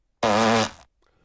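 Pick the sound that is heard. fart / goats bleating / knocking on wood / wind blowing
fart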